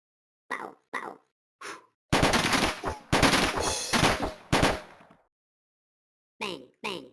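Talking parrot imitating gunshots, giving several short sharp bursts with a dense rattling stretch in the middle like machine-gun fire, then a few more single pops; a voice imitates gunfire.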